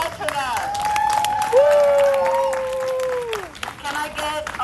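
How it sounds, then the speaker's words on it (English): An anniversary gathering's audience applauds and cheers in a crowded hall while a sustained tonal sound, like a voice or instrument, glides over the clapping throughout. "Let's applaud for that."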